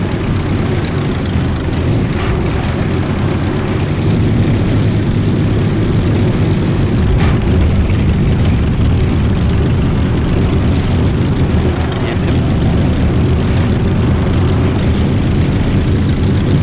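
A 1906 Renault car racing on the Targa Florio in Assetto Corsa, its engine giving a loud, steady, droning roar that holds throughout with little variation, close and continuous, no voices.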